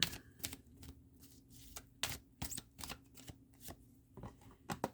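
A deck of tarot cards being shuffled and drawn at close range, a series of crisp riffling flicks and slaps in an irregular rhythm, quiet and with no talk.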